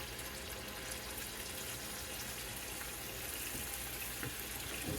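Tap water running steadily into a cooking pan that holds leftover chicken sauce, a continuous broadband splashing hiss with a faint sizzle, fairly close and even in level throughout.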